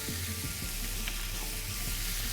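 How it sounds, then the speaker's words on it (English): Ginger, garlic and paprika sizzle in a hot pan with a steady, close crackling hiss that runs unbroken from start to end, with a few soft stirring scrapes and no voices. "So I'm gonna cook and stir them together till golden brown"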